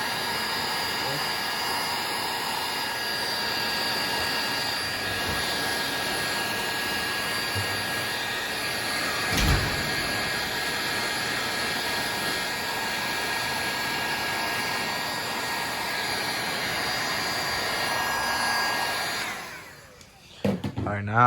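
A heat gun blows a steady, loud whooshing roar as it warms a carbon fiber spoiler before fitting on a BMW E92 335, running continuously at close range with a brief knock near the middle and cutting off at the end.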